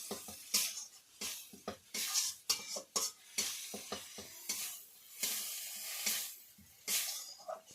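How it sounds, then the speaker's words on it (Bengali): Mustard and cumin spice paste sautéing in a pan, a bright hissing sizzle broken by repeated scraping and stirring strokes of a utensil, close and fairly busy throughout. "মশলা আমি ভালো করে কষে নিয়েছি"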